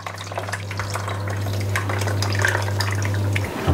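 Water pours into a bowl of tamarind set to soak for a fish curry, a steady close splashing stream lasting a few seconds over a low hum, with no voices.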